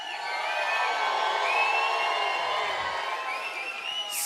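An audience at a business event screams, whoops and cheers together, a loud, sustained crowd roar that stays strong throughout.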